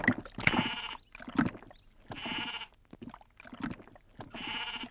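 A goat bleats in repeated wavering cries, alternating with short rough sounds and gaps, fairly faint and distant in the mix.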